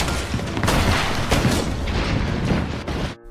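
Bomb explosion in a film, a loud sustained roaring blast with rumbling debris and bursts that fills the scene for about three seconds before cutting off abruptly.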